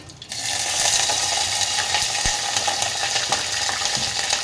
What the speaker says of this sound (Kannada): ಎಣ್ಣೆ ಕಾದಿದ್ದೆ ಜೀರಿಗೆ ಸಾಸಿವೆ ಹಾಕ್ತೀನಿ